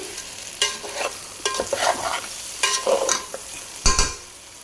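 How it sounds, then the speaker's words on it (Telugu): Chicken and rice for a Bhimavaram-style chicken pulao frying in a pot, with repeated scraping stirs of a spoon against the metal over a steady sizzle, close and fairly loud. "ఈ చికెన్ రైస్ బాగా వేగించుకోవాలండి"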